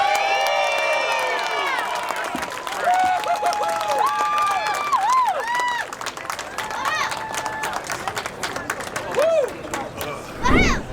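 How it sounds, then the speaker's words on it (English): A crowd cheers and whistles for the contestants at the end of the 2025 World Bagel Eating Championship, with loud continuous hubbub, shouting voices and sharp whistles, and a burst of louder noise near the end. "How about a round of applause for all our contestants?"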